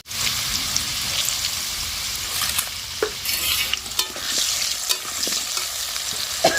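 Salted potato pieces fry in a pan with a busy, close sizzle and spattering crackle, broken by occasional sharp pops and scraping taps as they are moved.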